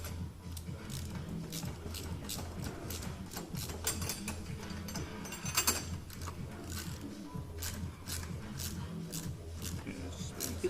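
A ratchet tightens a Ford Fiesta Mk7.5 coilover from the top, giving a steady run of quick, fairly faint clicks in repeated strokes through a mechanical workshop setting.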